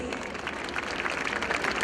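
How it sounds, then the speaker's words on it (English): Audience applause at a school annual day celebration, a steady, dense wash of many hands clapping continuously for about two seconds with no voices over it. "Let the claps be a little louder."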